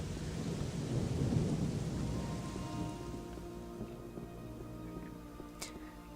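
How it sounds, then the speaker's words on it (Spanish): Steady rain pours in Gothic II Night of the Raven, loud at first and then easing into a softer patter, with low thunder rumbling beneath it throughout. "Nos despertamos ya con lluvia."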